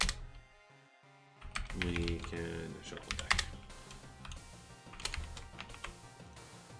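Computer keyboard typing during a card-game programming session, steady clicking keystrokes running under a man's ongoing speech.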